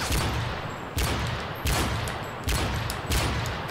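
Gunfire in a 1v1 video game match: four loud, close bursts of rapid shots at roughly even intervals, each fading briefly before the next volley.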